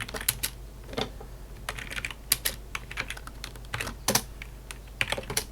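Quiet, close keystrokes on a computer keyboard, typing a command into a Linux terminal, with clicks arriving in short irregular clusters and brief pauses.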